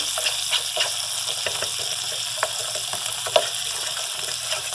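Flour stirred into a hot pan for white gravy after sausages, giving a steady close sizzle with soft scraping and stirring clicks throughout, no talking.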